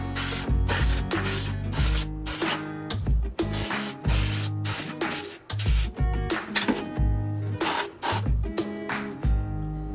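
Compressed air duster blasting dust out of a cheap Zoostorm gaming PC, loud hissing bursts in rapid repeated spurts with brief gaps, close to the mic.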